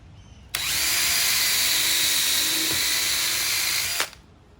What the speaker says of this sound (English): I'm just going to drill.